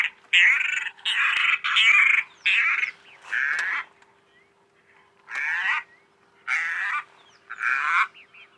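Harsh, rasping calls of a broad-billed roller, played from a recording, repeated in loud, close bursts: five in a quick series, a pause, then three more.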